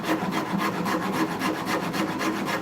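Rasp filing rhythmically across the wooden heel of a guitar neck, rounding it over near an epoxy line; steady close-up scraping strokes in a quick repeating rhythm, loud and alone with no talk.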